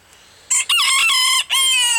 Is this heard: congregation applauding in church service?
no